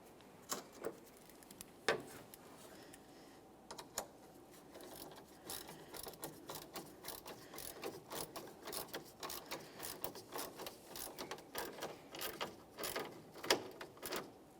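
A 10mm ratchet tightening the emblem bolts on a 1999-2006 Chevrolet Silverado 1500, quick runs of close, quiet clicking with short pauses between strokes, no voices.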